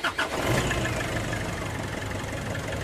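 A Nissan NV350 van engine cranks briefly and catches after an oil change, then settles into a steady mid-pitched idle, close and fairly loud, with no talking.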